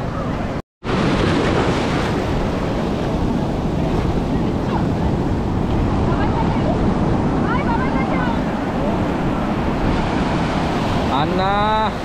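Sea surf rolls continuously at crowded Puri beach, a steady loud wash of breaking waves with wind buffeting the microphone and a brief dropout near the start.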